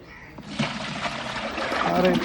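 Water is poured out during well cleaning, splashing and trickling in a continuous stream that swells louder over a couple of seconds, with outdoor background noise.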